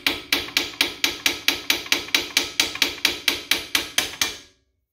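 A hammer strikes a nut threaded onto the end of a car's front axle joint at the wheel hub of a 2006–2012 Ford Fusion-type sedan, during hub and bearing replacement: about sixteen loud, close metallic blows in a steady, even rhythm, then silence.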